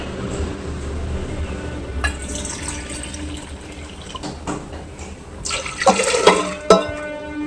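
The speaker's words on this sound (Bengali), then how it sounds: "পরিষ্কার জল নিয়ে নিয়েছি, জলটাও এর মধ্যে দিয়ে নিলাম" Clean water pours into a cooking pot of potatoes with soaked chickpeas in a home kitchen, a steady close splashing stream that swells and clatters more loudly toward the end, with no one talking.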